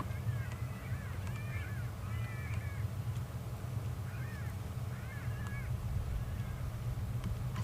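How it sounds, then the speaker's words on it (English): Crow-like birds cawing in the African bush during a safari drive, several short bursts of harsh calls at a moderate distance, rising over a constant low engine rumble and wind. "I think it actually might be birds. I think it is birds."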